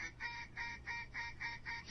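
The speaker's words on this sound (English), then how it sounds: "Johnny's got duck calls on his phone." A duck call plays from a phone as a steady series of about seven evenly spaced nasal quacks, faint and alone.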